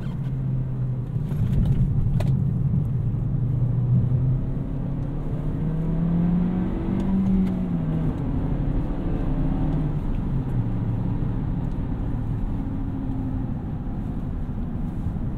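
A 2019 Toyota Corolla XSE manual hatchback with a small engine drones steadily from inside the cabin while driving, its engine note rising and falling through gear changes over a continuous road rumble.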